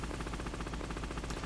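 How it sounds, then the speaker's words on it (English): A helicopter propeller in the video game Metal Gear Solid: Integral chops with a rapid, even, pulsing thud, loud and continuous with no talk over it. "that's the sound of the propeller from the helicopter."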